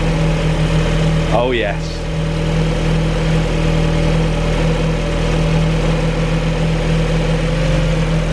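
A turbocharged Mazda MX-5 roadster engine cranks over and settles into a loud, steady idle, with a short rising whine as it catches, recorded up close with a brief exclamation from a voice.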